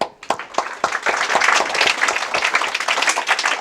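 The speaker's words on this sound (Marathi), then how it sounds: "मी पवळे सरांचं टाळ्या वाजवून शमनाने स्वागत करतो" Applause for a teacher, Pawale sir, at a Zilla Parishad primary school event in Chalburga village: a crowd claps steadily and fairly loudly throughout, with dense overlapping claps and no speech.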